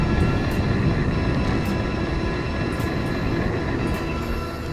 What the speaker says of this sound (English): I am curious if this is a normal amount of road noise.